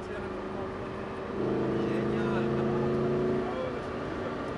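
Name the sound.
sports car engine accelerating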